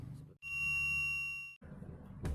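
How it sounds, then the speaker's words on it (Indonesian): A simple LM358 circuit that detects a passing object gives one steady electronic beep lasting about a second, clean and tonal, with quiet room noise before and after. "ketika suatu benda itu lewat, maka sensor tersebut akan berbunyi seperti itu"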